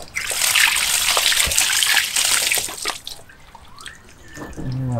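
Water splashes and drips as fish and shrimp are washed by hand beside a flooded rice field, loud sloshing for about three seconds, then softer trickles and drips, with a voice coming in near the end.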